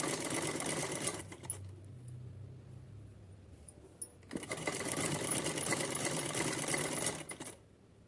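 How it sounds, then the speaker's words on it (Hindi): A sewing machine stitches a doubled green fabric strip onto a doll's dress cap, with two loud sustained bursts of rapid whirring separated by a short pause, up close and with no talking. "ये डबल करके पट्टी ले ली हमने ग्रीन कलर वाली और वही सिलाई के ऊपर हम सिलाई लगा लेते हैं।"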